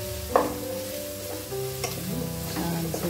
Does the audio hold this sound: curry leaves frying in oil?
yes